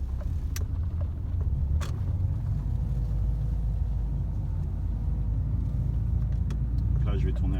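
A car engine idles and pulls away at the start of a driving lesson, a steady low rumble throughout with a few light clicks, while an instructor talks over it.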